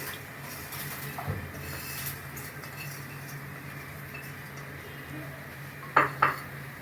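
About three cups of rice tumble into a pot of onions and spices and get stirred for sayadieh-style rice: a faint, steady scrape over a low hum, with a couple of sharp metal clinks near the end.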